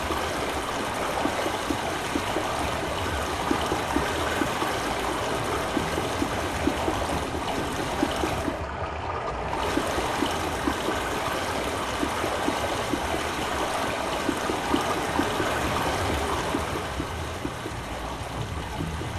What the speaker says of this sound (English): they're using this windmill to, I guess, pump water and create some water pressure